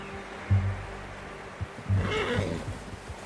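A horse in a video game whinnies and snorts with a couple of low heavy bursts over a steady background hum.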